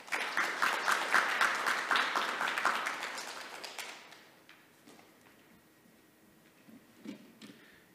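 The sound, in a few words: audience applause welcoming a keynote speaker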